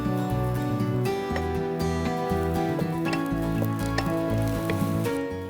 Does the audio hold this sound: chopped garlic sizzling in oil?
yes